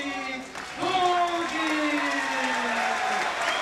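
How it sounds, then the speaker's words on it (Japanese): A packed crowd at Korakuen Hall in Suidobashi, Tokyo, applauds as a boxer is introduced before a ten-round bantamweight bout. The clapping is a steady, broad wash under an announcer's continuous talk. "今小林が場内に紹介されますと大きな拍手が沸き起こっております"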